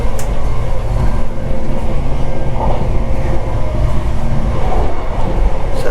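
Steady low rumble and rattle inside the seated carriage of the Caledonian Sleeper overnight train, a continuous loud drone with faint clicks and creaks and no talking.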